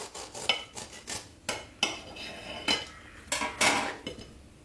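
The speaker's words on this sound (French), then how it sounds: "Alors je coupe une tranche." A knife cuts a slice from a caramel cake, giving a scattered series of close metallic clicks and scrapes against a plate or dish, with no voices.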